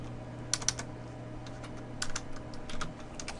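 Keys clatter on a computer keyboard as HTML code is typed, short bursts of quick clicks with pauses between them, close and fairly soft over a steady low hum, with no voices.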